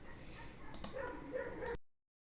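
Dogs bark and whimper outdoors, muffled and moderately distant, beyond a room where someone works on a computer: a few short yips and whines over a steady hum before the sound cuts off.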